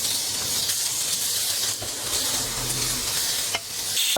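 Squid pieces fry in a dry, smoking-hot pan with no added oil, giving a loud, continuous close-up sizzle and hiss with occasional stirring scrapes.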